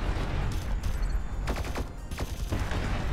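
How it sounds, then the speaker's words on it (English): Turret gunfire in the Sublevel Zero video game strikes the player as a dense, continuous rattle of shots and impacts, loud and close, with sharper bursts in the middle. "it's the fucking turrets on the bottom that's hitting me"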